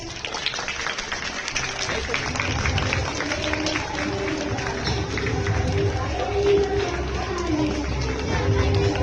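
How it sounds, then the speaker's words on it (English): Parents clapping at a school Republic Day celebration awards ceremony, sustained applause mixed with crowd chatter and hubbub through a busy hall, moderately loud with voices throughout. "Please parents, clap your hands."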